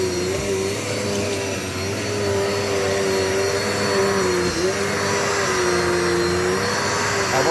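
A Dirt Devil multi-surface vacuum cleaner runs steadily at close range, a loud continuous motor drone with a sustained whining tone and airy rush that barely changes across the whole stretch, and nobody talks.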